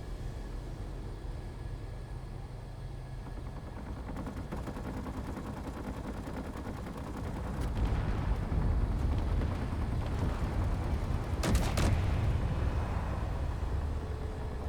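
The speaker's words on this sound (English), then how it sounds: "that was my artillery cannons kicking in there" Artillery cannons firing in Space Engineers, heavy booming blasts swelling midway over a constant low engine rumble, with a sharp loud burst near the end; no talking.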